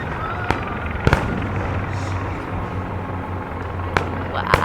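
Fourth of July fireworks over Washington DC boom and crack at a distance, several sharp bursts spread over a few seconds against a crowd murmur and nearby voices.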